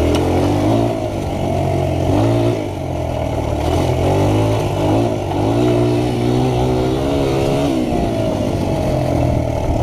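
A motorcycle engine runs steadily and loudly up close along a trail, holding a low, even drone that rises and dips slightly with the throttle throughout.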